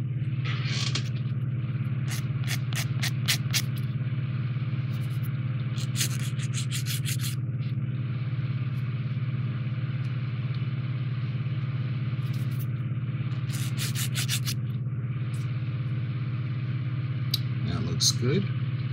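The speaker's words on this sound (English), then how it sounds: "Let's sand it down just a bit." Sandpaper rubs on a plastic part from an AMT/ERTL Star Trek Next Generation U.S.S. Enterprise model kit, producing short bursts of rapid scratchy strokes near and fairly loud over a steady low hum.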